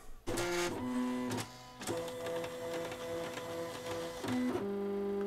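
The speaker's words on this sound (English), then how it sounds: "then it will tell your machine to go ahead and start cutting" A Silhouette Cameo cutting machine starts a print-and-cut sticker job, its motors whirring up close with steady humming tones that shift pitch and stop and start as the carriage moves back and forth.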